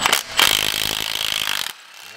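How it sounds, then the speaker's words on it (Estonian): Impact gun tightening a bolt on the brakes of a VW Phaeton, a short loud buzzing rattle of rapid hammering lasting over a second, then a quiet tail. "Ma panen normaalse jõuga kinni. Hea püss selleks tööks."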